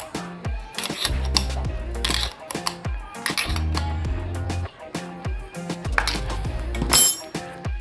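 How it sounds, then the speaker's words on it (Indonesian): Metal clinks and taps as a nut is tightened with a screwdriver held as a stop on the automatic clutch of a Honda Supra motorcycle, a close run of irregular clicks and knocks without speech. "Sekarang kita tekan, kita putar, dan obeng ini hanya sebagai penahan ya, teman-teman. Bisa kita kencangkan mur ini"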